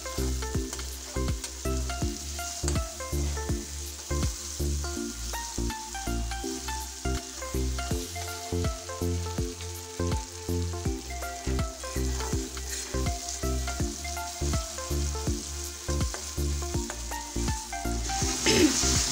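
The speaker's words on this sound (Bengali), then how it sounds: "টমেটোটা আমার এখানে ফ্রাই করা হয়ে গেছে" Tomato frying in oil gives off a loud, continuous sizzle with rapid, rhythmic stirring strokes running throughout. It is close and busy, with no one speaking.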